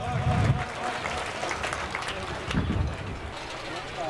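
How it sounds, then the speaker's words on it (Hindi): Children clapping at a school annual function, a steady crowd applause over about four seconds with voices mixed in. "बच्चे भी तालियां बजाइए जोर से।"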